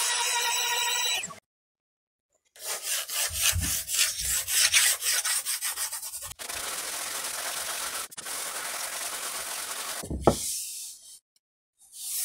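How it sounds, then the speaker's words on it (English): A flat sanding block rubs across a wooden guitar top being jointed flat, giving steady rasping strokes in rhythmic bursts with a few brief knocks, close and fairly loud, broken by short pauses. "I've knocked off the trenches and lines with a very flat sanding block."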